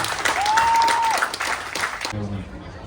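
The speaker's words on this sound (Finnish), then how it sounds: "Vielä kerran aplodit kilpailijoille." Crowd applause for the competitors at a weightlifting meet in Kotka, steady and fairly loud for about two seconds, with a clear whistle-like tone rising over it, then fading as a voice speaks near the end.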